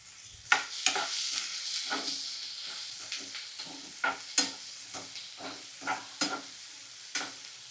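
Curry leaves and green chillies sautéing in a pan for a home-style prawn gravy, with a loud continuous sizzle and repeated scraping stirs close by.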